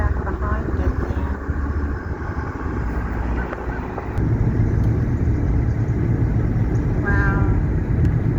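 A car rolls along a quiet road in a small Kansas town, a steady close engine and tire rumble that grows slightly louder partway through, with voices talking over it.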